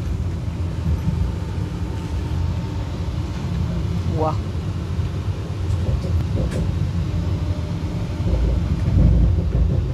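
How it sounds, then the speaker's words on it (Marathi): A Vande Bharat Express train running from Pune to Kolhapur picks up speed, heard from inside as a steady low rumble that swells toward the end, with a man briefly exclaiming over it. "स्पीड घेतली आपल्या ट्रेनने आता"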